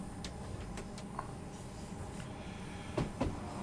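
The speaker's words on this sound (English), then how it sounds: "That's a train." A train passes on the Medway Valley Line in Train Sim World 6, a low steady rolling rumble with scattered clanks and a pair of sharper knocks near the end.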